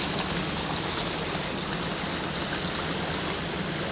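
Creek water rushes and drains after a cloudburst, a steady, dense outdoor roar of flowing water that stays constant throughout with no other sounds.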